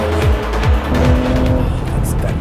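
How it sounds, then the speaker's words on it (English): A 2022 Porsche Macan GTS launching under launch control in Sport Plus, loud close engine surging through quick rising gear pulls with brief tire noise. "Foot on the brake, foot on the gas, launch control activated."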